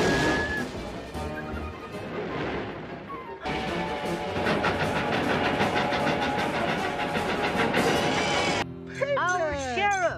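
A cartoon train rumbles along the tracks with clattering wheels and a loud crash-like burst, running loudly from a few seconds in, mixed with lively music and character voices.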